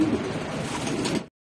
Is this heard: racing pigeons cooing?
yes